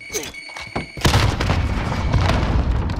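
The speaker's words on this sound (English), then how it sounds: "Grenade out." A grenade explodes in a first-person shooter video game with a sudden loud boom about a third of the way in, followed by sustained rumbling and combat noise. Before it, there are a few faint clicks and a voice murmurs.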